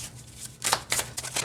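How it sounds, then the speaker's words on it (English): Tarot cards riffle shuffled in a few quick bursts of crisp fluttering snaps, close up and fairly quiet, with no talking. "this rifle kind of shuffle here that I love to do"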